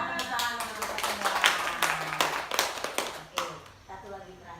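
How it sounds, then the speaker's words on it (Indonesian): Indoor applause from teachers in a training class, a burst of overlapping hand claps lasting several seconds with voices mixed in. "tepuk tangan untuk mempraktekannya"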